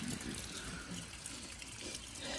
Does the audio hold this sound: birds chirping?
no